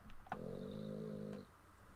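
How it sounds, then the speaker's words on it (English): A single drawn-out snore from a person, a low buzzing rasp lasting about a second after a brief click, fairly quiet in a room. "All right, here's snoring."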